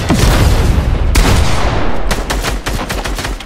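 Rapid, loud gunfire from the Fortnite video game crackles in dense overlapping bursts, with heavy booms up close and sharper single shots toward the end.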